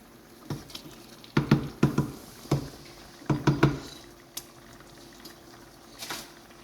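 A pot of fumbua, nkumu and koko simmering on a stove gives soft bubbling pops and splutters in irregular clusters, fairly faint and close, with no voices.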